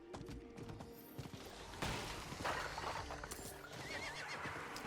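A horse in the video game Diablo 4 whinnies close by amid steady clip-clop of hooves and faint background game sounds.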